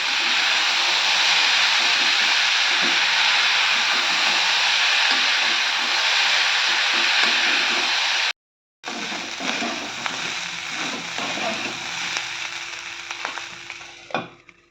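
Ivy gourd and onions frying in a pan and being stirred for a dry stir-fry, a loud, steady sizzle with scraping stir strokes, briefly cutting out before resuming slightly quieter.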